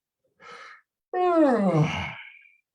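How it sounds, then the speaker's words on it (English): A person yawns aloud, first a short breathy intake and then a long, drawn-out voiced yawn that slides downward in pitch and fades, heard close and alone. "turn your head to the left and yawn"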